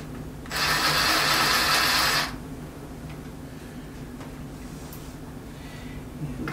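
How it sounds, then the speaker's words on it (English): A power screwdriver whirs in one loud, steady burst of about two seconds while removing screws from a Samsung DLP television cover, followed by a quiet background hum. "pull two screws out of this cover here, and they're located down in this narrow slot here."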